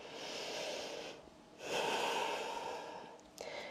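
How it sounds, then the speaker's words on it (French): Slow, deep breaths during a yoga session, two long airy exhalations with a brief quieter gap between them. Soft and close, with no talking. "Pensez bien à respirer."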